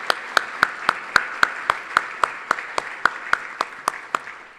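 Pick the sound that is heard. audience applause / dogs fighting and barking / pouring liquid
audience applause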